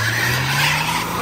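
A car doing a burnout at wide open throttle with the e-brake fully set, its engine a steady loud drone blended with continuous tire screech, close by and unbroken.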